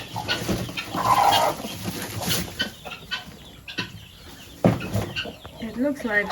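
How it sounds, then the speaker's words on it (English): Hens clucking close by in a backyard permaculture coop while a broody chook is settled onto a nest, soft irregular clucks and a few sharper calls, with a person talking nearby. "We have a couple of chooks which are willing to sit."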